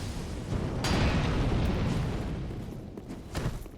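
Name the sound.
fire orbs exploding in video game Dark Souls 3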